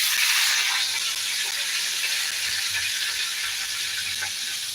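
Shallots, dried red chillies and curry leaves sizzle and crackle steadily in hot oil, a continuous close hiss with faint pops and no talking.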